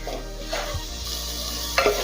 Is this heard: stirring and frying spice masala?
yes